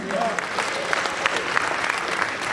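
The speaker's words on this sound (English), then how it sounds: "give it up for our Vice President" An audience applauds the Vice President of Sierra Leone with a dense, continuous round of clapping at moderate loudness, a few louder claps standing out.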